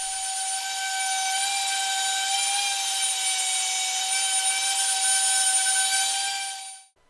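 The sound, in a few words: sanding an Ipe wood picture frame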